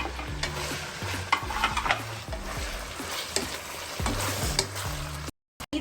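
Vegetables stirred into ginger-garlic paste for vegetable biryani, sizzling steadily in the pan with repeated scraping stirs, close and fairly loud, alone, ending in a brief silence.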